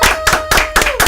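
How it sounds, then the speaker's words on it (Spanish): Applause in the studio of the radio program Café en el Reino, five crisp, evenly spaced claps, close and loud, with a faint steady tone underneath. "Escuchá el aplauso que te vamos a dar desde aquí"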